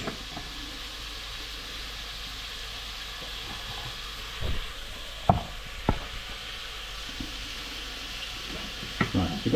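Minced meat sizzles steadily in a pan for a bolognese sauce, a soft continuous frying hiss with occasional louder pops and clatters.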